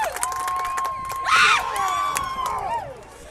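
Baseball game crowd cheering and whooping with bases loaded, a broad rising swell of voices with a sharp shout near the middle, fairly close and under a whistle-like tone.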